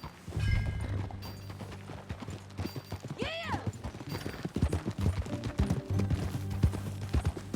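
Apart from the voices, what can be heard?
horse hooves clip-clopping in video game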